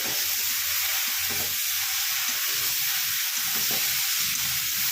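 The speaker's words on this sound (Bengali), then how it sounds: "এটাও ভালো করে নাড়িয়ে নেব।" Potato and ridge gourd curry sizzling in a pan while a spoon stirs it, a loud, continuous frying hiss broken by soft scraping strokes.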